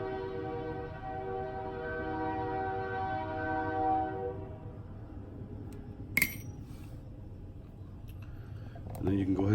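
A train horn blares loud and sustained for about four seconds over a steady rail rumble, then fades as the train rolls past, with someone talking throughout.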